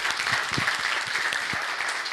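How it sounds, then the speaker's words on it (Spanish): An audience at a business talk gives a short burst of steady, full applause, many hands clapping together without pause. "Fuerte el aplauso."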